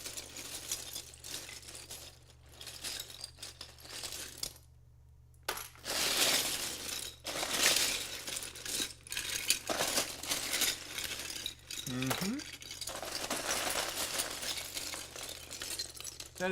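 Plastic LEGO pieces rummaged through in a large bin of same-colored bricks, a dense clattering rattle of small pieces close to the microphone, with bursts of louder churning and brief quiet gaps.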